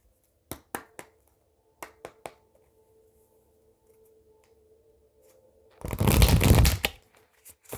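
A few sharp card taps and flicks, then a loud burst of riffle shuffling near the end; no talking.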